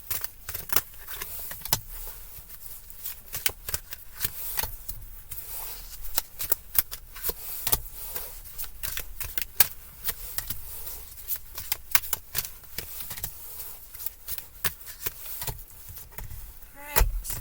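Tarot cards shuffled and dealt out for a six-card reading, giving a long run of dense riffling flutters and soft snapping slaps that continue steadily throughout at close range, with no talking.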